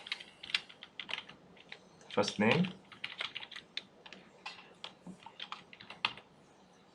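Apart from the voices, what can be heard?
typing on a computer keyboard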